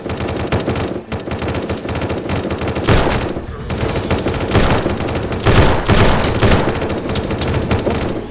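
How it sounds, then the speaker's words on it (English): A turret fires in the zombie survival game SurrounDead, producing loud, sustained bursts of rapid automatic gunfire with dense overlapping shots and brief pauses between volleys. "The turret should shoot above me."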